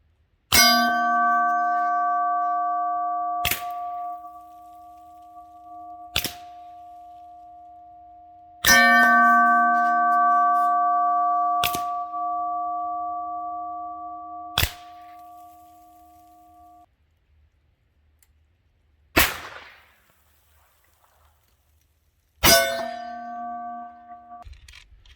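A lever-action rifle fires at steel targets downrange, each shot followed by a long, clear metallic ring that hangs and fades; about seven hits come at irregular intervals, heard from the target end, with no talking.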